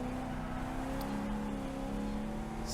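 A Corvette on the National Corvette Museum track drones under full throttle, a steady sustained engine tone heard from inside the car with constant road and wind rush.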